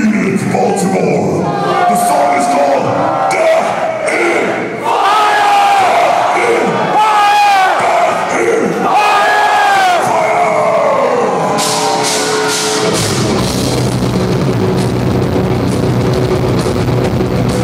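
Metal concert crowd in Baltimore, Maryland, at a show roaring, screaming and cheering loudly and continuously, dense massed yells swelling throughout.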